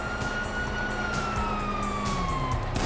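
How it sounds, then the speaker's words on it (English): Police sirens wail in the video game Grand Theft Auto V, a continuous gliding tone sweeping down in pitch over a rumbling background, moderately loud and steady. "you hear that? Sirens!"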